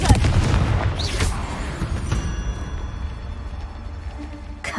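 A Confringo fire spell exploding in the video game Hogwarts Legacy, with a heavy booming blast and rumbling crackle up front, then a whooshing tail and ringing tones fading under continued low rumble.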